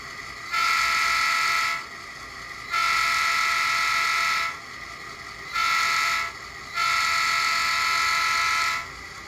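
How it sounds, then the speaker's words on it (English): A Bachmann N scale GP38-2 model locomotive in CSX colors blows its horn four times, each blast a steady, reedy toot lasting one to two seconds, separated by short pauses. "Horn sounds good."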